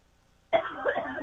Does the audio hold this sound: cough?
yes